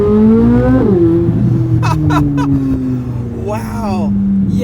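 A Chevrolet C8 Corvette Z06 engine revs loudly, pitch climbing then falling as it shifts, with a few bursts of throttle and a rising roar near the end.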